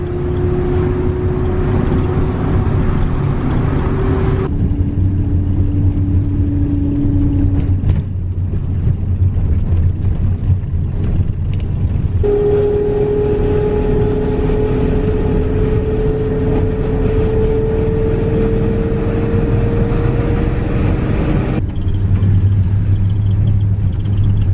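Marshrutka minibus engine droning while driving in Kyrgyzstan, a loud, continuous low rumble with shifting whining tones as the engine changes speed, heard from inside the vehicle.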